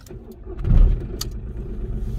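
A used car with a 1.4 turbo diesel engine and nearly 300,000 km cranks briefly and starts, a low rumbling swell followed by a steady close idle.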